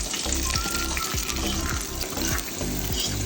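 Fried small onions and curry leaves go into a thick mutton curry made with ground coconut, giving a steady sizzling, bubbling hiss with a few soft low thumps, close and fairly loud.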